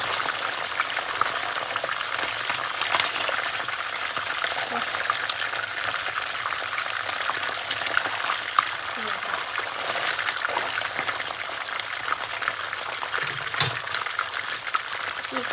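Snakeskin gourami fish frying in hot oil, giving a steady, close sizzle with scattered crackles and pops throughout, and soft talk at times.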